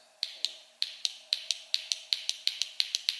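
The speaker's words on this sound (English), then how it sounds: "that's kind of what I was talking about the audible click" Tekton inch-pound torque wrench clicking at a low setting, a series of sharp, crisp clicks in an uneven rhythm, close and distinct against near silence.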